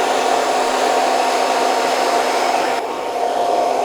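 A hair dryer fitted with a nozzle blows steadily and loudly at close range while it guides hair during a haircut, a constant whooshing roar with one slight shift in tone near the end.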